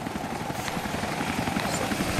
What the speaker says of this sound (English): Did that helicopter see me?